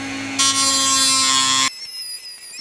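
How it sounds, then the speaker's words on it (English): A Dremel rotary tool grinds through a Kydex holster blank, a loud steady high-pitched whine that starts abruptly, holds for over a second, then cuts off to a quieter buzzing remainder. "I'm gonna go ahead and grab the Dremel and start going ham with it."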